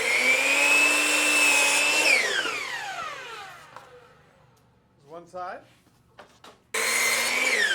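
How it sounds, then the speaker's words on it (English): A power tool whines steadily for a couple of seconds cutting cellular PVC trim, then spins down; after a few short bursts and a spoken word, the high motor whine starts again up close. "Make our cuts, drill for pocket screws"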